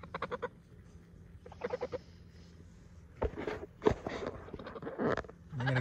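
Geese honk in close, repeated bursts of harsh nasal calls, with a few louder single honks toward the end.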